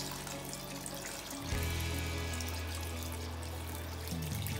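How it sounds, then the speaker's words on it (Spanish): Water is poured from glasses into a paella pan of chicken and seafood with red prawns, a steady close pouring and splashing that starts about a third of the way in and runs to the end, with no one talking. "aquí tengo yo 3 vasos de agua. Yo voy a echarle"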